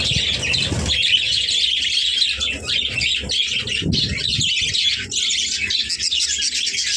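Budgie chicks chirp inside a clay pot, a dense, continuous chorus of high, rapid, overlapping peeps with a few lower thuds and rustles beneath.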